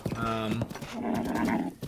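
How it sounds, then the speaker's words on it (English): Hoofbeats of a ridden horse in Zelda: Breath of the Wild, a short rhythmic clip-clop under steady game ambience, with a voice talking over part of it. "It looks like there's someone riding a horse up here."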